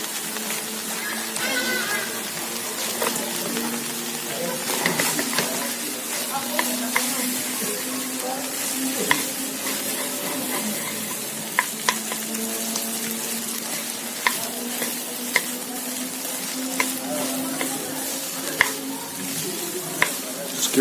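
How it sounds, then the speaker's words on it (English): Egg noodles stir-fried with vegetables in a hot wok, giving a steady close sizzle broken by repeated sharp scrapes and clatters of a utensil, with faint voices in the background. "Time for the noodles to go in."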